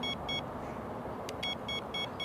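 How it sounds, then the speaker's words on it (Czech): A Mivardi M1350 wireless bite alarm emits short, high electronic beeps in quick pairs and clusters, clear and close over a soft background hiss. "vždycky nám hlásič pípne tolikrát, kolikrát, jak dlouhý budeme chtít krok"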